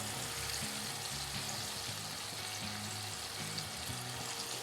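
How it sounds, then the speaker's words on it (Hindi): Chicken tender pops deep-fry in hot oil, giving a continuous soft bubbling sizzle that stays faint and even throughout, with no voices. "ये फ्राई हो रहे हैं हमारे चिकन टेंडर पॉप्स"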